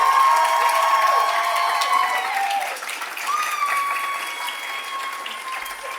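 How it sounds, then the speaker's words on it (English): Crowd at a GradSlam student research presentation event applauding the presenters, with steady clapping mixed with whistles and cheers that gradually thin out. "let's give them a huge round of applause because it's not easy work"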